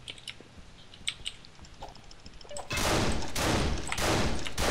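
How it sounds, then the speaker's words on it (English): Quiet scattered ticks give way to a sudden loud, sustained burst of gunshots and ricocheting bullets in The Ship, harsh and dense until the end, with no talking over it. "I heard ricocheted bullets"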